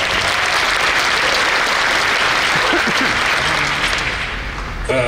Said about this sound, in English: just a round of applause for all of them